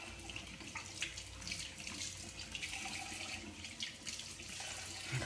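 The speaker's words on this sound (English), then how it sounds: "first let me rinse this off." Running tap water pours steadily into a sink while dye is rinsed out of hair, a constant soft splashing stream with no talk.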